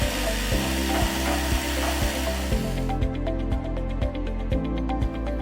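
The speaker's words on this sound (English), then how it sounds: "Use the provided grinding stone to clean up the edges around the viewport opening." A grinding stone works the edges of a plastic viewport opening, giving a steady close whirring rasp with regular rhythmic pulses throughout and no talk.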